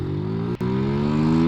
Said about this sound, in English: If he did have the throttle wide open, that means the Zontes is faster than the WR125.